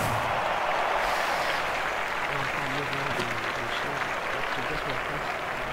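A stadium crowd applauds a French competitor's field-event effort at the London 2012 Olympic athletics, a loud, dense, steady wash of clapping lasting throughout with a voice speaking over it.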